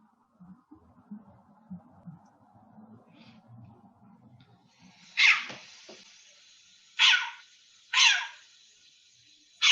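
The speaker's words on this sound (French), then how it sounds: "est-ce que Monique, on est capable d'écouter ce hibou? Le hibou des marais?" A short-eared owl calls in a recording, giving three sharp, yapping barks like a small dog in the second half, loud and spaced about a second apart, after faint low murmuring at the start.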